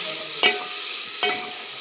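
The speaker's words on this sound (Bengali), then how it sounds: "বাড়ির দেশি শুদ্ধ ঘি, কাজু কিশমিশ কটা ভেজে নেবো।" Cashews and raisins frying in homemade pure desi ghee, with two distinct stirring scrapes in the pan over a steady low sizzle, close and clear with no talk.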